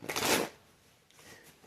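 A quick riffle of tarot cards being shuffled, a brief rustling burst followed by a softer second flutter, close by.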